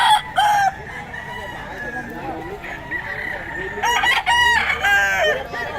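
Several stags, young roosters at a Bocaue fowl yard, crow and cluck close by, with overlapping crows bursting out near the start and again toward the end over a busy clucking background, with a voice faintly underneath.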